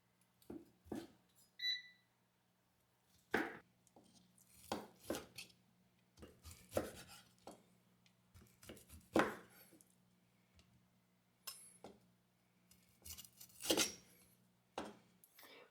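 Char siu, Chinese barbecue pork cooked in an air fryer, is sliced with a knife on a board: scattered faint chopping knocks in irregular bursts over a low steady hum.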